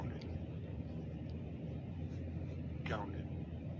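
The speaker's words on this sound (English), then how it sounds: "and that is an airplane" A fixed-wing airplane rumbles somewhere overhead, a low, distant, steady drone beneath a quiet background with brief faint voices.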